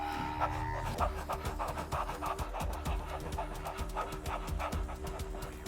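A person breathes in fast, shallow panting bursts like a happy dog, a steady repeated rhythm of breaths over a faint background tone, close and moderately loud.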